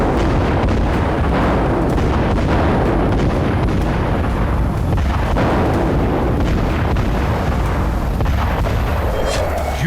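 Missile strikes in Ukraine produce a dense, loud rumble of explosions and blasts, a continuous heavy roar with sharp bursts scattered throughout and no pause.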